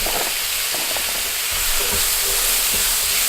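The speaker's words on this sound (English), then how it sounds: "Stir fry 2 to 3 minutes." Potato and carrot with salt, pepper and spices stir-fried in a pot, giving a steady broadband sizzle with faint scraping stirs throughout, close and continuous, no voices.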